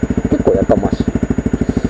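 A motorcycle fitted with an FMF Q4 exhaust muffler idles close by with a loud, regular thumping beat. Someone talks briefly over it near the middle.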